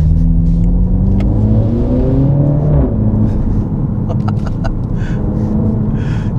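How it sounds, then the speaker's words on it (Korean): Mini Clubman JCW heard from the cabin, engine droning and revving under acceleration through a gear shift, with a scatter of crackling exhaust pops near the end over a constant road rumble. "이 변속에 들어갔을 때 팝콘 터지는 이 소리 자체가"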